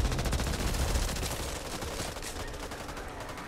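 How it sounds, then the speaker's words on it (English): Zombies in Back 4 Blood, a video game, draw sustained rapid gunfire: a dense, steady rattle of repeated shots, moderately loud, with no pauses. "Shoot the fucking zombie, you animal!"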